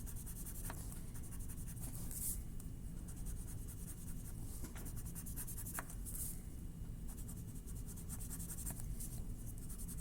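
An orange marker draws lots of lines on paper in a quiet room, soft continuous scratching strokes with brief sharper squeaks repeating through the passage.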